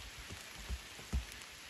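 Rain patters softly and steadily on a surface outdoors in northern Spain, a faint continuous hiss with a couple of slightly heavier drops standing out.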